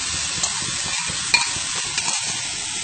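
Mango jam syrup, with sliced mango and sugar that has sat two hours and released its juice, bubbling and sizzling softly in a pot on the stove, with a steady simmering hiss and occasional stirring clicks.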